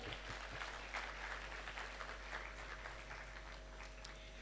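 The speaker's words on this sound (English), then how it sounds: "Can we please give her a round of applause?" Applause for a guest from the audience at a high school graduation ceremony in Kampala, a continuous, even patter of many hands, fairly faint and distant over a low steady hum.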